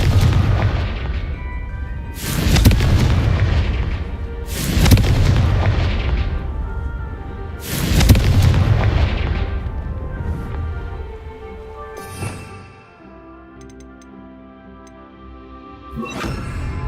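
Explosive fire spells from Hogwarts Legacy blast several times in a row, each a loud booming burst with a rolling tail, spaced a second or two apart, then a quieter stretch before a final blast.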